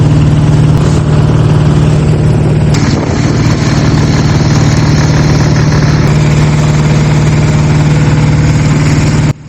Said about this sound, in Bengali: মেদনা নদীর বুক চিরে ছুটে চলেছে আমাদের ট্রলার